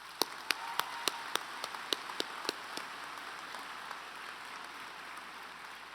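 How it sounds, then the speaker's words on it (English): Faint, sparse claps from a convocation ceremony audience, a dozen or so distinct hand claps spaced in a slow rhythm that thin out and fade after a few seconds against a quiet room. "let's all give these folks a big round of applause"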